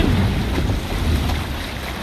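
A Viking longship under sail rides ocean waves in Assassin's Creed Valhalla, with a loud rushing wash of water and wind buffeting steadily across the short stretch and no talking.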